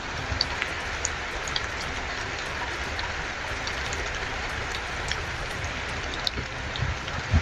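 Heavy rain pours down in a continuous, dense wash of noise, with a few faint ticks and drips scattered over the steady downpour.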